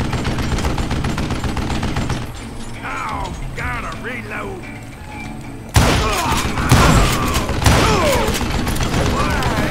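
Gunfire in the Western shooter game Call of Juarez Gunslinger: sharp revolver shots and mechanical clicks of cocking and reloading, with a loud burst of shots and ringing echoes in the second half over game music.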